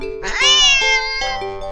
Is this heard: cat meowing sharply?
yes